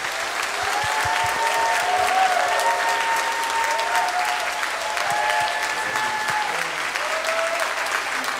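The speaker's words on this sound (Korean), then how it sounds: "우리가 할 수 있는 가장 큰 박수로 우리 목사님 모시도록 하겠습니다" A church congregation at a Sunday service applauds to welcome the pastor, sustained, full-room clapping that stays steady and strong, with a few cheers rising over it.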